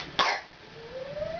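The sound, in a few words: cough after loud roaring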